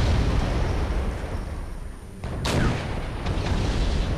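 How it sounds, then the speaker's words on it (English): Enemy fire hitting Bradley vehicles in the Wargame European Escalation video game, heavy booms and explosions over a steady rumbling battle din, with one sharp blast standing out partway through. "So right now they're shooting at my Bradleys."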